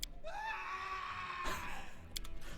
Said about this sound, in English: Very dramatic scream